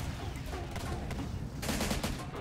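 KPVT heavy machine gun on a BTR-80 armored vehicle firing in the game Syrian Warfare, a rapid rattling stream of shots with a denser burst near the end, fairly faint under a game-battle din.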